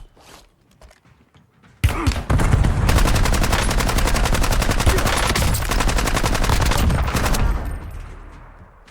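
Rapid automatic gunfire in Call of Duty Warzone opens abruptly after a quiet moment and hammers on as a fast, loud, evenly spaced burst for several seconds before tailing off.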